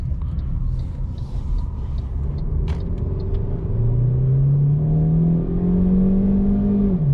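A 2021 MG HS with a 1.5L turbo engine accelerating from the driver's seat, its engine note rising steadily in pitch through a long gear over a constant low cabin rumble, loud and close.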